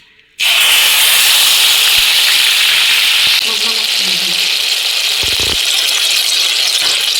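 Onion paste goes into hot mustard oil tempered with cardamom, clove and sweet wood and bursts into a sudden loud sizzle. The hiss then settles into a steady spitting fry, with faint clinks and a brief voice in the background.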